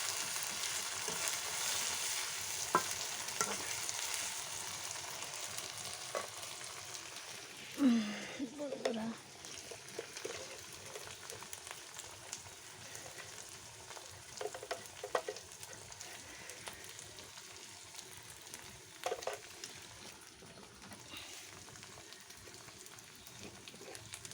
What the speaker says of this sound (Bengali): এখন আমি আদা রসুন বাটা দেব।